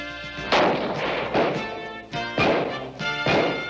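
Gunfire in a 1986 action movie scene, Hell Squad: four loud, heavy blasts with ringing tails, spaced irregularly, over a music or ambience bed and with no talking.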